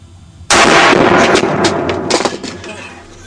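Gunfire erupts suddenly, a loud sustained burst of shots and blasts with rough crackling echoes that keeps going to the end.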